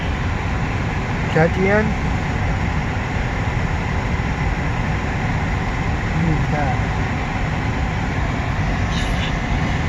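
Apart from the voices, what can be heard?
long CN mixed freight train passing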